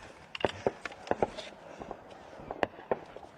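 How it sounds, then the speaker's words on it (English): Distant gunfire at a small Ukrainian soldiers' outpost sounds as scattered sharp cracks and pops in irregular bursts, muffled by the distance over a low background. "We can hear gunfire in the distance"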